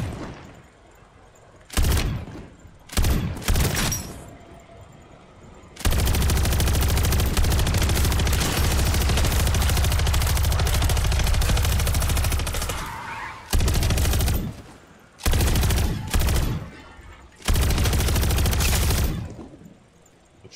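Automatic gunfire from a player's main gun in a video game, loud rattling bursts separated by short pauses, one long sustained burst in the middle, no voices.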